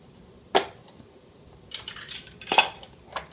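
Metal measuring spoons clinking against a bowl while adding baking powder to Italian cookie dough, two sharp clinks with soft scraping and tapping between them, close and quiet otherwise.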